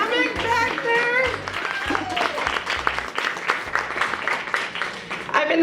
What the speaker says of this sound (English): Can we have a round of applause for Maggie Barris